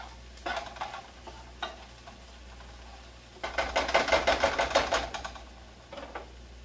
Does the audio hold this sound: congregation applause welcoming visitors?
no